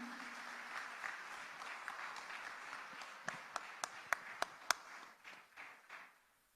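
Audience applause greets Chief Minister Nara Chandrababu Naidu at a semi-Christmas celebration, a sustained wash of clapping from a crowd that ends in a run of sharp, close individual claps before fading out.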